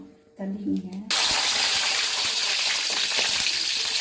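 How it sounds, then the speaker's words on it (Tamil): Small onions dropped into hot oil for egg kuzhambu. After a second of speech, a loud, close frying sizzle bursts in abruptly and holds steady and crackling to the end. "ஆயில் காஞ்சிருச்சு இப்போ சின்ன வெங்காயம் போட்டுக்குவோம்"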